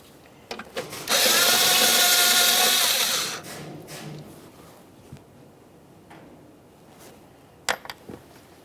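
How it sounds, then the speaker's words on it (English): A power tool whirs for about two seconds while backing out a 10mm mounting bolt from a metal bracket on a 2012-2018 Nissan Maxima 3.5L V6, followed by a few faint clicks and taps. "We'll remove our 10mm mounting bolt."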